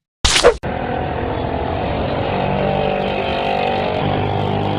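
A new car starts up after a short burst of noise, then its engine runs steadily, close and fairly loud, as it drives off.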